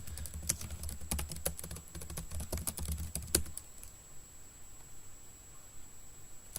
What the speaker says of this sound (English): So apt-get updates, so you can just type that over here.